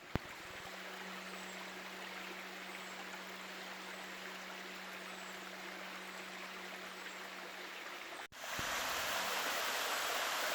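North Creek Falls, an iron-stained orange waterfall by a coal seam, pours in a steady broadband rush heard from nearby, briefly jolted by a thump before growing louder and closer for the final seconds.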